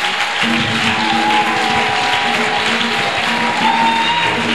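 A church congregation applauds, a dense, sustained clatter of clapping hands at close range that keeps an even level from start to finish.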